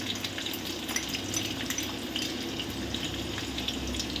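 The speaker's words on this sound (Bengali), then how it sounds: "তারপর এগুলোকে একটু ভাজতে দেব যতক্ষণ না এগুলোর কালারটা একটু চেঞ্জ হয়ে যায়" Chopped ginger and garlic frying in a pan for chilli paneer, producing a soft, even, hissing sizzle that holds constant and faint, close by, with no talking.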